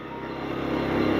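A motorcycle engine labours at low revs in first gear, a steady rough drone that slowly builds in loudness, close by with no talking.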